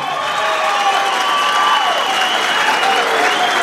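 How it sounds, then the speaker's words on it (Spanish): A crowd at a charro rodeo arena in Mexico applauds during a tournament, loud sustained clapping mixed with shouts and whistle-like cheers rising above it. "si quiere que sea el finalista, póngale el aplauso."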